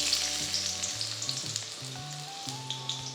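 Chopped onion sizzles in hot oil in a pan during chicken fried rice cooking, giving a loud, continuous close hiss with small crackles. Soft background music plays beneath and no voice is heard.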